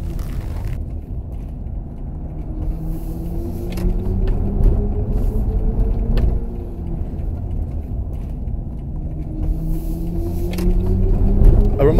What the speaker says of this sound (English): It's my favourite synthetic electric sound of any car brand so far.